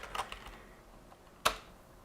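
A few quiet keystrokes on a computer keyboard, a short cluster at the start and one sharper click later, with near silence between them.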